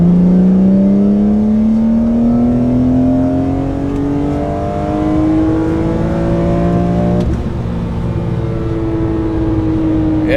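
A BMW E46 M3 engine revs on a dyno in 3rd gear, a loud sustained climbing drone rising steadily in pitch for about seven seconds, then briefly dipping and holding near full throttle.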